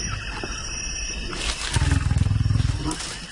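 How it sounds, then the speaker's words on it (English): Lions growl and roar at night, deep rumbling calls building into a loud, pulsing roar that swells in the second half, close and unaccompanied by talk. "those growls and roars just rattle through your body"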